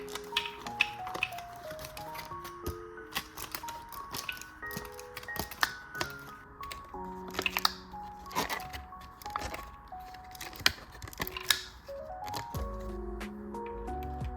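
Akko creamy purple tactile switches are pressed into a Leopold keyboard, giving a scattered series of quiet clicks, snaps and taps at close range, irregular in timing and moderately soft throughout.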